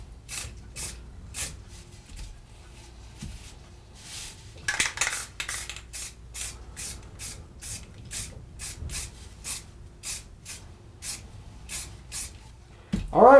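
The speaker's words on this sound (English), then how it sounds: "I'm just going to spray the actual letter itself. Again, really light spray, you guys." Light aerosol spray coating going onto a carved MDF letter: a quick series of short, evenly spaced hisses, with one longer burst midway, all close and fairly crisp against a quiet room.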